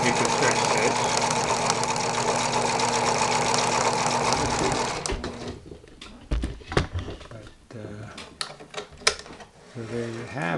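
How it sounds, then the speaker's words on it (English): A Husqvarna Viking 190 sewing machine runs a stretch stitch with a steady, dense mechanical whir for about five seconds, then stops, leaving scattered clicks and handling knocks. "So there you have it, the Husqvarna Viking 190. Here is stretch stitch."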